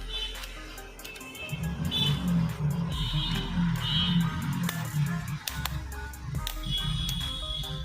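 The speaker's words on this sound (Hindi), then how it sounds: "यहाँ पे बजर मोड पे हमने सेट कर लिया है मल्टीमीटर को" A digital multimeter in buzzer continuity mode, used while repairing the button lines of a Jio F320B phone, gives a few short, high electronic beeps in separate bursts over a low, steady hum.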